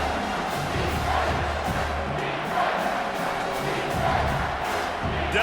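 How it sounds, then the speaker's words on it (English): A large stadium crowd at a college football playoff game between East Carolina and South Carolina roars steadily during a third-down defensive stand, a dense, continuous wall of cheering with no single voice standing out. "Decibels rising as the crowd gets behind this defense on 3rd down."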